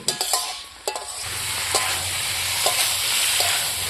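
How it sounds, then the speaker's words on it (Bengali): Egg and potato are stirred into spice paste as they fry in a pan for a village-style vegetable egg curry, with steady close sizzling and a few sharp scrapes and clinks of the spoon against the pan. "এখন আমি ডিম আর আলুর সাথে মশলাটা ভালো করে কষিয়ে নেব।"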